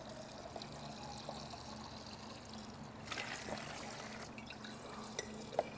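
Water trickles and pours steadily out of the bottom end of a Honda CL90 engine, faint and close, with a brief surge of gushing partway through and a few small drips.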